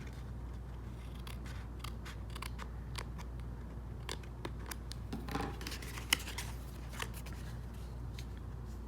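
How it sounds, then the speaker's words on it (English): Quiet crisp snips and rustles of scissors cutting paper, irregular and close, over a low steady background hum. "I'm just going to take my scissors and simply trim"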